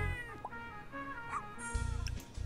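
Cat meowing in the video game Paradise Pet Salon, a couple of drawn-out, wavering meows rising and falling in pitch, fairly close and clear, with bursts of low game noise at start and end.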